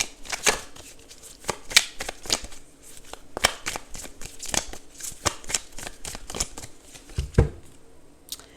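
Tarot cards are shuffled close up. Crisp riffling and slapping bursts repeat irregularly at roughly half-second intervals throughout, with a heavier thump near the end, and no speech.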